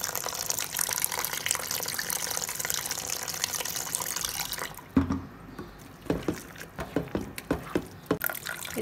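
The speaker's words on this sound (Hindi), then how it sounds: "पानी डाल लेंगे इसमें" Water poured into collected cream in a bowl for making homemade ghee: a steady splashing pour for several seconds, then stops, followed by scattered drips, sloshes and light clinks nearby.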